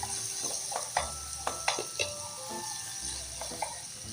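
Tomatoes sautéing in a pan for Kapampangan ginisang patani, a soft continuous sizzle with several scraping stirs and clinks of a spatula against the pan, close and fairly quiet, with no talking.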